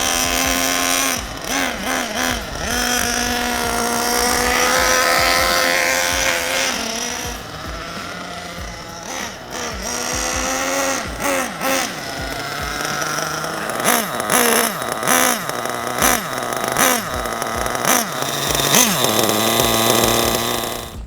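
A nitro RC engine runs during break-in, its high buzzing whine revving up and down in surges, dropping off briefly midway before returning with sharp throttle blips, loud and close with no voices.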